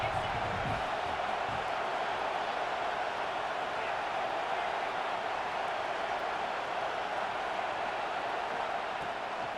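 A stadium crowd in the College Football 26 video game keeps up a steady, broad roar throughout, with a commentator's voice over it.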